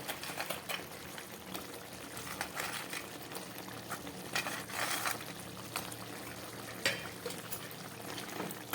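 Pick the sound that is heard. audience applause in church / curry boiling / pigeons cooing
curry boiling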